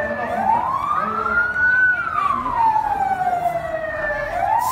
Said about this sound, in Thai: รถดับเพลิงมาแล้วเนาะได้ยินเสียงมาแต่ไกล